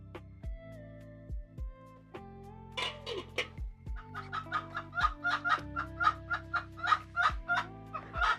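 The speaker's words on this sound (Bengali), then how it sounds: "হ্যাঁ, দেশি মুরগি আছে।" Native chickens cluck in a rhythmic run of short close calls, with occasional crowing and low mechanical hum beneath, no talk.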